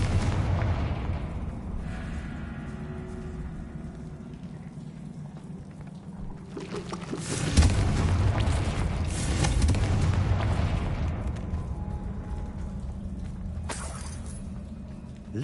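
Confringo blasting spell in Hogwarts Legacy, erupting midway as a loud burst over a low, rumbling ambience, then fading into a sustained roaring wash.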